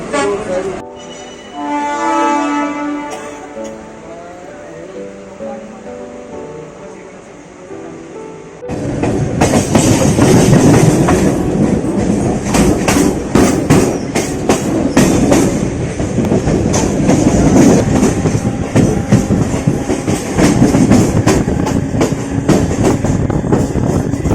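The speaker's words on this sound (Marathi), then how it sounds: "ट्रेन सुटली आहे." A passenger train rolls along the rails, a quiet whine at first, then loud rumbling and rhythmic clacking of wheels over track joints, close and continuous.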